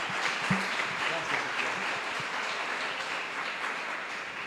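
Audience applause at a national catechetical congress, a broad steady wash of many hands clapping from a crowded hall, sustained for several seconds, with a voice briefly audible near the start.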